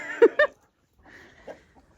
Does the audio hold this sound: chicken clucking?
yes